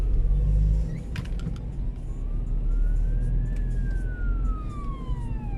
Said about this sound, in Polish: Karetka.